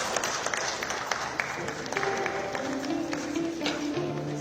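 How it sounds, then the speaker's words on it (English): Applause from a large crowd fills the room steadily at a capital markets award ceremony, dense clapping going on throughout with a few voices mixed in. "A round of applause."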